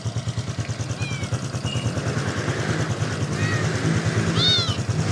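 A cat under a motorcycle meows a few times in short rising cries over the steady, close putter of the idling motorcycle engine.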